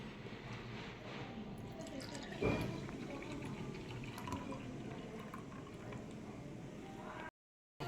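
KitKat milkshake poured into a glass, a steady wet liquid flow running for several seconds with a brief louder splash near the start, ending abruptly.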